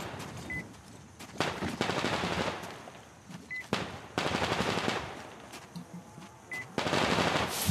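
Weapon gunfire in Metro Exodus, heard as repeated bursts of rapid automatic shots separated by short quiet gaps, loud and close.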